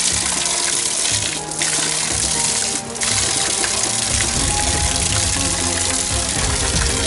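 Water runs steadily along a coastal trail near colonial-era forts on the Baixada Santista coast, a close, continuous gushing flow with two brief dips in loudness and no talking.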